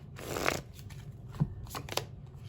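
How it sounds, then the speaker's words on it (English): A deck of tarot cards is shuffled close up in quick, soft riffling bursts, with a few light taps of the cards between them. The sound is quiet and intimate, with no talking. "So well shuffled."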